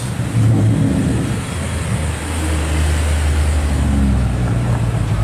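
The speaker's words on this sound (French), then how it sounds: "regardez la nouvelle M5 là qui arrive en bleu. Ouh, joli bruit en plus" A new blue BMW M5 arriving at a Cars&Coffee meet in Luxembourg, its deep engine rumble loud and near, rising slightly over steady background traffic noise.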